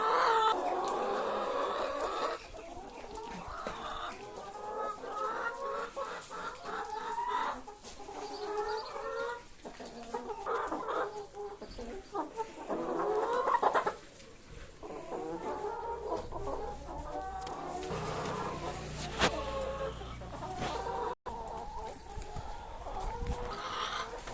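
Many chickens clucking continuously, a busy, dense flock close by with overlapping calls and occasional louder squawks, no speech.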